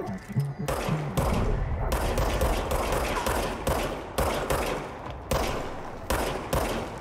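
Service weapon fire in the video game Control: a series of sharp, loud gunshots in quick bursts, roughly a dozen in seven seconds, each cracking cleanly over a quiet background.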